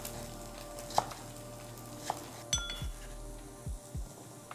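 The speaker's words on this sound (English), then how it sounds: "I'm just gonna chop it into very small" A knife chops mango into small pieces on a board, a few sharp separate knocks and clicks spaced unevenly, quiet and close with no talking.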